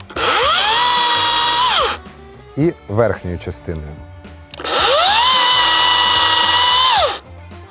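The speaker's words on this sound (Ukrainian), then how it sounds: "Є два основних різи бензопилою чи будь-якою іншою пилою." Two loud, sustained bursts of a high-revving petrol chainsaw cutting, separated by a short stretch of someone speaking.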